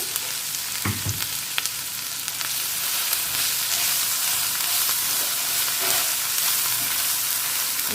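Coarsely ground masala fries in a hot pan with a steady, close hiss and crackle, with occasional stirring scrapes and clinks of a spoon, continuous and with no voices.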